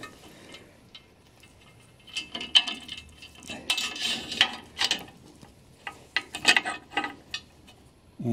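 Tightening screws while mounting a Felder F rail for an aluminum table extension gives close, irregular metallic clicks and ratcheting scrapes. They come in bursts after a quiet start.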